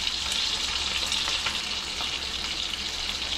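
Garlic sizzling in a tablespoon of olive oil at the bottom of a pan, a steady broadband hiss with a few faint pops, continuous and close with no talking.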